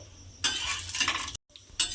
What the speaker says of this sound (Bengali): অল্প অল্প তেল দিতে হবে, দিয়ে পরোটাগুলো কিন্তু খুব ভালোভাবে ভেজে নেব এপিট ওপিট করে।